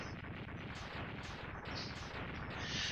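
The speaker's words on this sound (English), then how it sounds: "And another cute explosion later, we are finished." Explosion in the Mega Man X2 video game: a dense, continuous crackling burst of blasts, rapid and loud, filling the clip without any speech.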